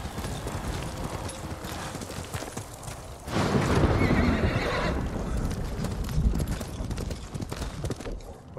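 Horse in Ghost of Tsushima, a continuous clip-clop of hooves with a neigh breaking in midway, steady and fairly close, with no voices over it.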